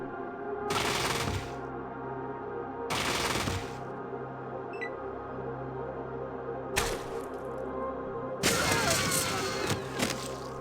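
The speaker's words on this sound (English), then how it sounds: "he loves to burst fire his minigun through you and your companions" A super mutant companion in Fallout 2 fires four separate minigun bursts, each a loud, dense rattle of rapid shots lasting about a second, with short quiet gaps between them and the last burst running longest.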